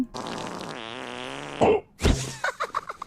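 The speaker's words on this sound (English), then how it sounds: "He farted." Cartoon fart sound effect from Teen Titans Go: a loud, drawn-out buzzing fart lasting over a second that ends in a sharp burst, then a brief mix of voice and noise.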